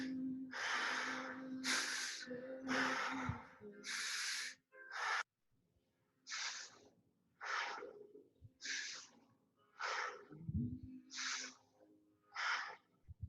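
Deep, forceful breathing during a breathwork exercise: about a dozen close, loud inhale and exhale bursts. The rhythm is steady, with brief pauses between breaths.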